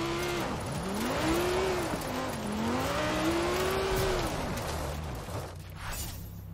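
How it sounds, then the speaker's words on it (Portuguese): A car drifts in a racing video game, its engine note rising and falling in long revving sweeps with tire squeal, loud and continuous with no talk. "Vou fazer bem pouquinho de drift mesmo, é só pra gente descobrir a charada."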